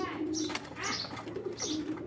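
A high-grade foreign racing pigeon cooing close by in a loft, three soft throaty coos in a row over low background hum.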